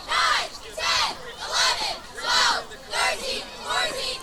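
Williamstown Braves high school football crowd led by cheerleaders, loud rhythmic chanting in about six evenly spaced bursts, with the crowd shouting together close by.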